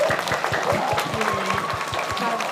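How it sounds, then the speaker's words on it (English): Applause from a children's book event audience, a steady round of clapping that holds at an even level through the whole short stretch. "we should all give Sophie a huge round of applause."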